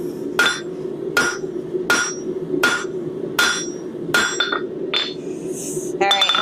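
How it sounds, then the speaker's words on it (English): Hammer blows on hot metal while forging hooks: about eight loud, close, ringing strikes in a steady, even rhythm, with a quicker cluster of lighter taps at the end. "I'm gonna do my best to give you, a good show on the hammer blows."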